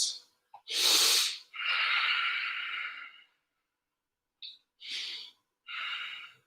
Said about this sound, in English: Remember your Ujjayi breath here.